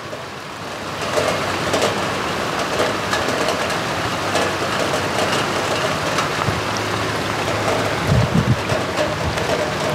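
Heavy rain pours in the Mekong Delta countryside during a day of flooding, a dense, steady roar of drops hitting surfaces, loud and continuous, with a few brief low knocks near the end.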